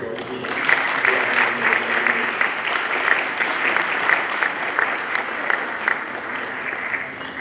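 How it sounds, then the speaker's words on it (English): An audience at an honors luncheon gives a sustained round of applause for the Class of 2021 honors students, with dense, steady clapping from many hands filling the room from start to finish. "just join me right now in just giving a round of applause to our students."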